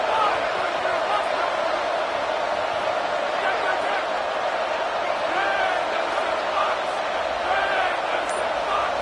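A packed stadium crowd at a Pitt football game roars steadily and loudly throughout, a dense continuous wall of noise with no letup.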